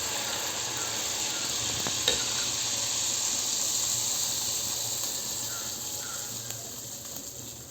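Neyyappam batter sizzles steadily in hot coconut oil, a continuous close hiss with occasional faint clicks and scrapes.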